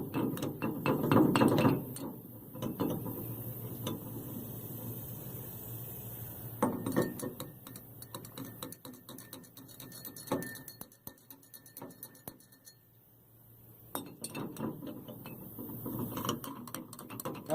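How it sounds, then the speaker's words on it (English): A stick stirs fuel samples in small glass containers, giving light clinks, scrapes and rattles in irregular bursts with a quiet pause near the end. "we've also got a high-tech stirring stick."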